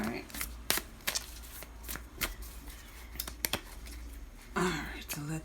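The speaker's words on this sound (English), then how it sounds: "I'm gonna try to shuffle a bit." Thin, matte, non-glossy tarot cards shuffled close by, with repeated crisp papery snaps and flicks in an uneven rhythm and a quieter bit of rustling at the end.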